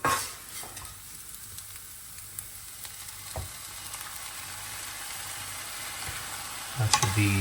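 Pistachio paste stirred into a chocolate mixture with condensed and whole milk in a pan over a low flame, giving a steady, soft sizzling hiss with light scraping throughout and a brief clatter at the end.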